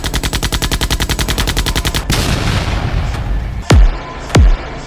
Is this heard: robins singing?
no